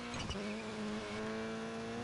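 A rally car races in DiRT Rally 2.0, its engine holding a steady, sustained whine with a brief scrabble of tires early on, loud and continuous with no talking.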